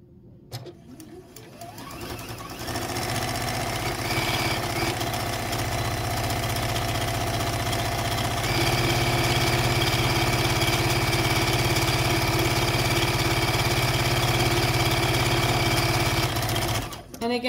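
Sewing machine running steadily at speed, stitching fabric circles for a quilt as the cloth swings under the needle, a continuous close mechanical whir with a voice talking over it.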